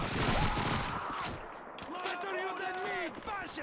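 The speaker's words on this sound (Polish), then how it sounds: "ma taki fajny ten dźwięk, jak to strzela z tej broni" A weapon in Call of Duty 2 fires in rapid bursts of shots, loud and close at first, then fainter, while someone talks over the game noise.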